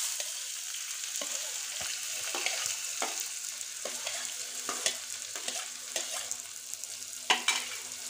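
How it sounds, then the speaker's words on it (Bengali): Chopped onions sizzle in hot oil in a pan, a steady crackling hiss with intermittent sharp clicks and scrapes of stirring, close and fairly loud, with no talk. "এখানে আমি কুচানো পেঁয়াজটা দিয়ে দিচ্ছি।"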